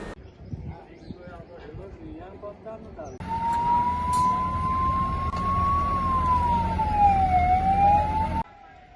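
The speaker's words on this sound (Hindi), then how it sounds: "दमकल विभाग की 2 गाड़ियां मौके पर पहुंच गई है" Fire engine siren wailing at a large blaze, starting a few seconds in and holding a loud, slowly rising and falling tone over traffic rumble before cutting off abruptly near the end.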